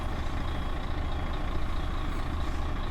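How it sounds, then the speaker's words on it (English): Diesel truck engine idling steadily at close range, a dense continuous low rumble with no talk over it. "And now the engine is running."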